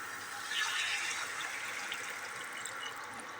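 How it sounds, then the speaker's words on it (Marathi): About one and a half litres of water pours steadily into a pot of trotter soup, a continuous splashing rush that holds for a few seconds, close and moderately loud. "आता दीड लिटर पाणी टाकायचं आहे आपल्याला"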